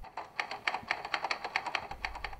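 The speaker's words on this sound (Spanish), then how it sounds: "el tecleo de una vieja máquina de escribir" An old typewriter clatters with a steady run of crisp, evenly spaced keystrokes, close and fairly quiet against a low hum.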